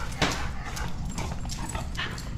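An excited dog whimpers and yips in short bursts over a rough, windy outdoor background aboard a lobster-fishing boat.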